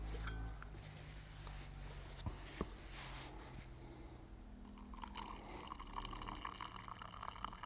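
Coffee pours from a plunger press into a cup inside a hot tent, a faint liquid trickle and splash with a couple of light clinks, quiet and close.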